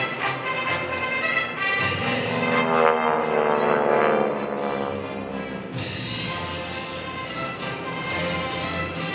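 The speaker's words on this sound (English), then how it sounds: "two aircraft are dispatched to assess the damage" GEICO Skytypers propeller planes fly overhead at an airshow, a loud, buzzing engine drone that swells as they pass close, eases, then holds at a steady level.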